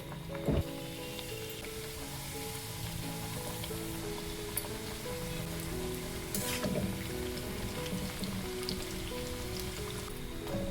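Rounds of wheat flour snack dough frying in hot oil give a dense, steady sizzle and crackle throughout, with a few sharp pops and spits. Close and continuous, with no talking.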